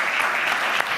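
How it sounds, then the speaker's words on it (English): Audience applause at a live charity fundraiser event, a brief steady wash of clapping lasting about a second. "Let's give them a huge round of applause."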